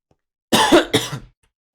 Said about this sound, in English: Ooh, cough. I apologize. Coughing.